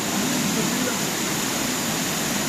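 A waterfall in a Dolomites canyon pours in a constant, dense, broadband rush, steady and close, with a voice talking faintly beneath it.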